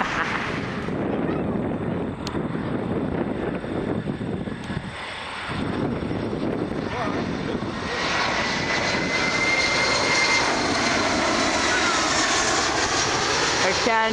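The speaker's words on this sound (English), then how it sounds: "Xstrata Nickel B737-200. Hovering over the runway." A Boeing 737-200 jet airliner passes low over the runway at a busy international airport, its engine roar loud and steady throughout, rising in pitch toward the end, with wind buffeting the microphone.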